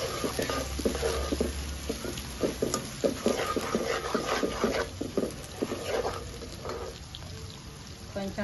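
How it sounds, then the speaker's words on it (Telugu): Sliced onions sizzle in hot oil in a pan for chicken curry, with a steady fry hiss and repeated scraping stirs of a spoon, close and continuous. "ఆనియన్స్ వేసానండి. ఇవన్నీ ఫ్రై అవ్వాలి బాగా."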